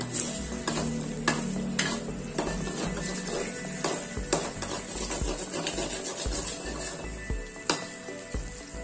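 A spatula scrapes and clanks against a wok while pad thai noodles and egg sizzle and hiss steadily in oil, with sharp metallic hits scattered throughout.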